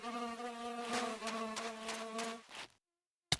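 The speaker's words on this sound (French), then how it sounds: "c'est une mouche" A fly buzzes in a Minecraft-style game, a steady whining drone with a wavering pitch lasting a couple of seconds before cutting off, followed by a brief click.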